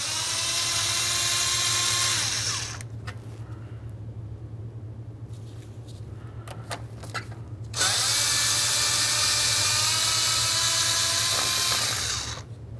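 A power tool whirs loudly in two long bursts, backing out the 8 mm mounting bolts of an A/C condenser on a 2004-2015 Nissan Titan, with quieter clicking and handling in the pause between.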